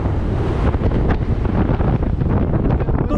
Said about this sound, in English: Whoa, windy. It was windy, though. Very windy.